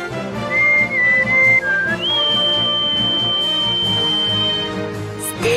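A clear whistle in the video game Suikoden plays a short melody of sustained pure tones, bright and close, with a soft musical backdrop underneath.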